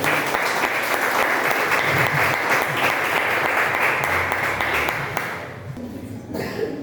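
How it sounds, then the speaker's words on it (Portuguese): Church congregation at a garage worship service clapping loudly in praise; sustained crowd applause for about five seconds that then tapers off, with a short flurry at the end. "Vamos mais uma vez aplaudir bem forte o nome do Senhor"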